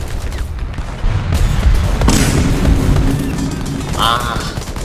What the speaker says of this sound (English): I know I'm getting shot at